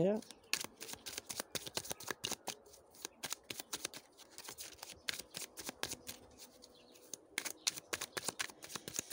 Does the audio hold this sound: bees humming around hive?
no